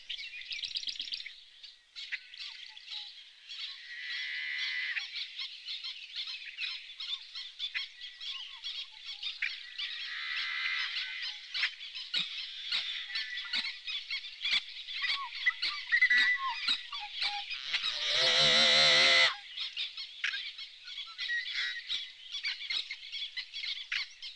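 Avocets calling sharply at intruders, a continuous chorus of shrill, piping alarm calls over more than twenty seconds, with one louder, harsher squawk close by near the end.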